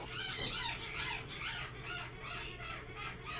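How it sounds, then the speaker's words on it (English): Pet chickens or similar fowl squawk and cluck in a steady run of harsh, close calls, several bursts in a row with no talking over them. "I love your birds"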